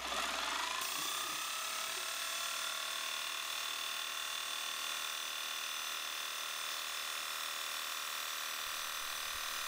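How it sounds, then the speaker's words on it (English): A DIY CNC mill cuts a 0.2-inch-deep pocket into the side of a part with a carbide end mill on a 2D adaptive toolpath, a steady high whine and chatter running evenly throughout with no talk. "I'm just running a 2D adaptive toolpath to machine out a 200 thou deep pocket on the side of this part."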